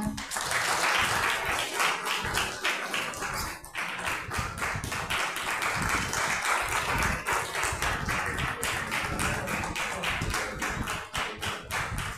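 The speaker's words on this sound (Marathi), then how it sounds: "जोरदार टाळ्या" A lecture-hall audience breaks into loud, sustained applause, dense clapping continuing steadily for about twelve seconds with no voices over it.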